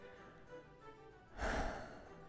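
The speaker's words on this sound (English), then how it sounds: "There's gonna be a lot of heavy breathing in this one." A single heavy breath is pushed close into a microphone during a quiet spoken podcast, a brief rushing exhale that stands out against soft room noise.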